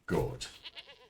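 A goat in the medieval city-building game Manor Lords gives a single short, close bleat that wavers briefly before trailing off, heard alone.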